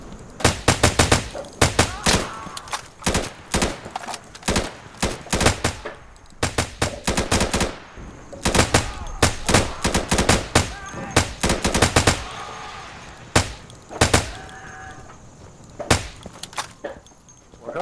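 Gunfire in the game Insurgency, loud bursts of automatic fire and single shots cracking close by in irregular volleys, with short pauses and scattered distant shots between them.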